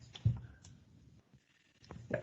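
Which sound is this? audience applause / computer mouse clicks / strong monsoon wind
computer mouse clicks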